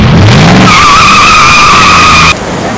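Tires squeal in a long, loud skid as a car slides on a city street during a Fast and Furious 5 film set stunt, a steady high screech lasting about two seconds over engine rumble before cutting off.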